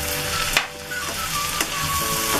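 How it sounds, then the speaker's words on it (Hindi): Okra in a pan being stirred after salt and lemon are added, with soft continuous sizzling and a few sharp spatula scrapes against the pan, close and alone. "नमक डाल के मिक्स कर देंगे और ये नींबू डाल देंगे।"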